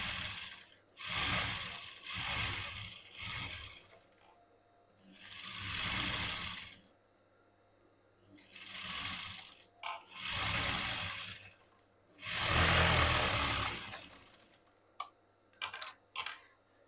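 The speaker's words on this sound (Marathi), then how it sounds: "आता आपल्याला अशा पद्धतीने कापड ठेवून सर्व बाजूनी टीप मारून घ्यायची आहे." A sewing machine stitching around the edges of a blouse sleeve runs in several bursts of rapid mechanical whirring and clatter, separated by quiet pauses and a few small clicks near the end.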